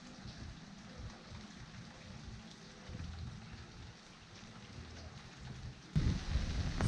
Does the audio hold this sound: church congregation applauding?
no